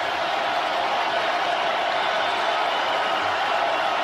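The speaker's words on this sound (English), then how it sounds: "Georgia's half of the crowd making some noise here." Georgia fans in a packed stadium at the 2023 SEC Championship game against Alabama roar in a steady, dense wall of crowd noise that holds at an even loudness throughout, with no single voice standing out.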